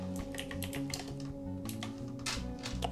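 Typing on a computer keyboard while setting up a PS3 hard drive: quick, close, steady key taps in an irregular patter, with no talking over it.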